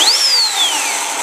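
A 40-volt battery-powered chainsaw with a built-in chain sharpener spins up with a rising whine that settles into a steady electric hum, close and alone, with no combustion engine noise.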